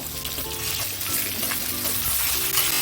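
Potato, pumpkin and pointed gourd sizzle and crackle loudly in a hot pan, a continuous close frying hiss with occasional stirring.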